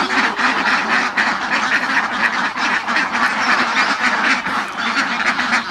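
Dense, continuous chorus of many ducks quacking close by on a laying-duck farm at feeding time, overlapping calls with no pauses.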